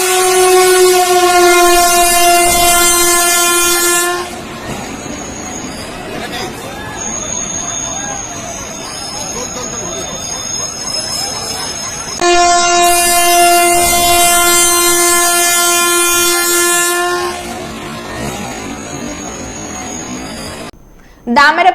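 The Hazaradwari Express rumbles past close by, sounding two long, loud horn blasts separated by a stretch of heavy wheel and carriage noise, with crowd babble mixed in.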